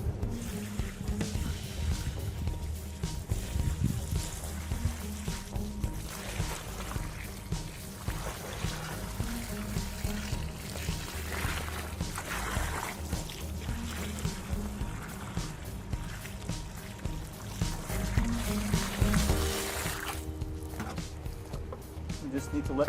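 Liquid termite treatment pours steadily into a freshly dug soil trench along a house, a continuous gurgling wash with low rumbling underneath, lasting throughout at moderate, close level with some voice in the background.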